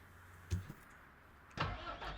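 A tractor engine starting up in Farming Simulator 19, a short mechanical thump followed a second later by the engine catching and settling into a low idle, close by with no talking.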